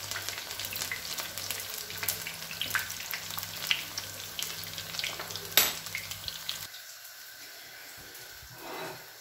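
Zucchini flower fritters fry in hot oil with a steady sizzle and crackle, a brief sharp pop midway, then the frying drops away to near quiet near the end.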